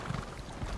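In The Elder Scrolls Online, a horse's hooves clop in a quick, soft beat during a brief, faint moment, and a short whinny may be heard.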